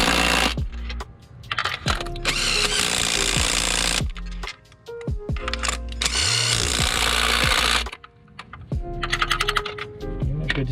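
A power tool tightens Toyota V6 spark plugs, rattling impact bursts and whirring in several runs broken by short pauses and clicks.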